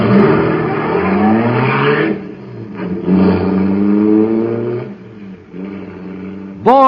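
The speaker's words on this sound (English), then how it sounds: "that cosmic surface car is really roaring" In an old radio drama, a supercharged 'cosmic surface car' roars as a stylised engine effect, giving loud rising and falling revving tones in several surges, with a sharp upward sweep at the end.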